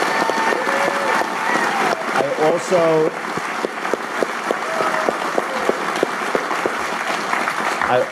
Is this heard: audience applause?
yes